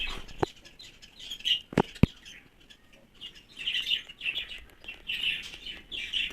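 Newly hatched baby birds, two chicks with eyes still closed, in a nest in a money plant give repeated faint high chirps in bursts, with a few sharp clicks and handling knocks near the start.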